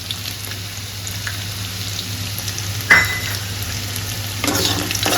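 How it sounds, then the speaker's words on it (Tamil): Garlic and chili sauté in hot oil after mustard seeds have popped, for a South Indian garlic kara kuzhambu: a steady close sizzle with one sharp clatter midway and brisk stirring near the end. "பூண்டு நல்லா வதங்கிட்டுங்க"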